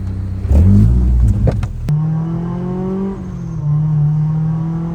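Supercharged Honda S2000 revving hard, a burst of throttle blips before the engine settles into a loud, climbing acceleration whine close by, with no talk over it.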